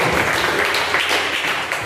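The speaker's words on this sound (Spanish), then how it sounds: "Denle un aplauso al Señor, hermano" A church congregation applauds after a prayer, a dense, steady wash of many hands clapping together at close range for a couple of seconds.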